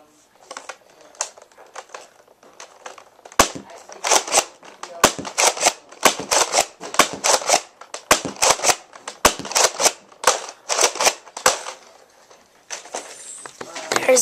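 Nerf Clear Series Deploy blaster shooting indoors: a rapid run of sharp plastic clicks and pops from priming and firing, close and fairly loud, repeated in irregular bursts.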